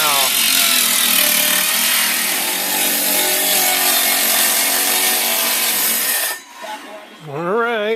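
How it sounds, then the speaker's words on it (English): A power saw rips loudly and continuously through doubled-up plywood for a window frame opening in an old house, the harsh cutting noise stopping abruptly near the end, after which a voice speaks briefly. "Alright, plywood's in place, ready to cut."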